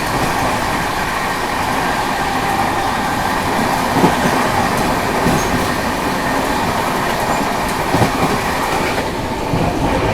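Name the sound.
Howrah Jodhpur Express train passing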